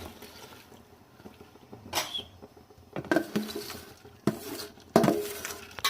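Dry rice grains poured into a pot for green chickpea pulao, a soft pattering rush with bursts of clinking near 2, 3, 4.3 and 5 seconds, close and moderately loud.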